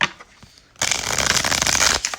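A tarot card deck is shuffled close up, with a quiet pause followed by a sudden burst of rapid, riffling card flutter that runs steadily for over a second and then stops.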